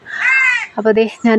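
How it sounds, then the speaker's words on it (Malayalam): Crows caw loudly near a house next door: one long, harsh caw up close, then a person starts speaking over the area. "കുറേ കാക്കകൾ കിടന്ന് കരയുന്നുണ്ട് കേട്ടോ തൊട്ടടുത്ത വീട്ടിൽ"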